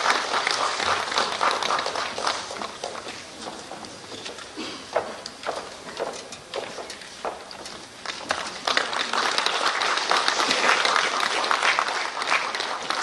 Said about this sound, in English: A big hand clap as this document and booklet is being released.